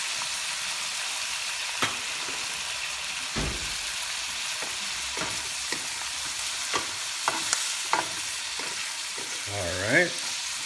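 Pork frying in a pan for Kapampangan pinakbet, a steady close sizzle throughout with occasional stirring scrapes and clinks.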